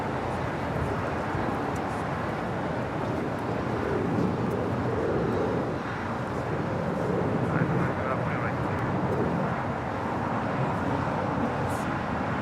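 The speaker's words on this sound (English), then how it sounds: "the Korean Air 747-8 Intercontinental passenger 747 now on short funnel for 24 right on the north side" A Korean Air Boeing 747-8 Intercontinental landing at LAX gives off a steady, broad jet roar that holds for the whole stretch, with a voice talking over it.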